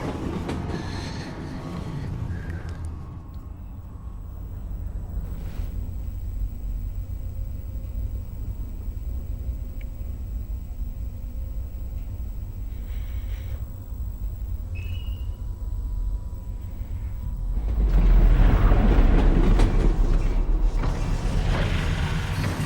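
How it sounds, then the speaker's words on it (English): Train carriage in Half-Life: Alyx rolling along with steady rumble, mechanical rattles and creaks, slowing before a louder low thump and grinding as it comes to a halt near the end; no talk. "Did the train stop? It stopped, didn't it?"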